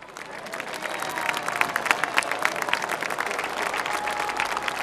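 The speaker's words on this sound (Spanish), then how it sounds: "Vamos a despedir a nuestro presidente de la República con un caluroso y fuerte aplauso." At a solemn anniversary ceremony in Moquegua, Peru, a crowd applauds the nation's president in a dense, sustained burst of clapping that holds steady for several seconds.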